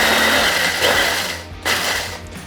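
Electric food chopper chopping into crumbs, a loud close whirring buzz in two short bursts separated by a brief pause.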